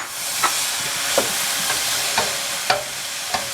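Frozen peas hitting a hot frying pan for a mushroom and bacon pasta, giving a steady broadband sizzle with a few sharp crackling bursts as they cook and are stirred, close and loud with no talking.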